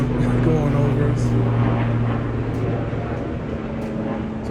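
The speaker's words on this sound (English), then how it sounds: "Got a helicopter going over us." A helicopter passes overhead above a house's backyard deck, its steady droning engine and rotor hum sustained at moderate loudness and slowly fading, with people talking over it.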